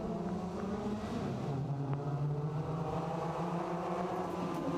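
Suzuki Swift rallycross race cars launching off the line at the start of a British Rallycross Championship race, a dense, loud wall of engine roar and revving that holds steady throughout without any voices.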